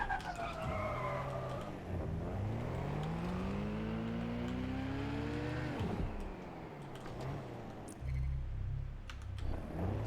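Car engine revving and tyres skidding while driving through the streets of London in the video game Watch Dogs Legion, with a rising engine whine, a squealing slide, then a lower rumble near the end, loud and continuous with no talk.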